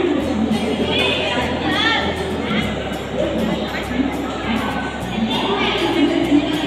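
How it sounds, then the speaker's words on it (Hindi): A dense crowd murmurs and shouts at a busy art gallery event for India's Amrit Mahotsav celebration, with steady overlapping chatter and children's voices close by, loud and continuous throughout. "लेकिन देखिए काफी भीड़ है।"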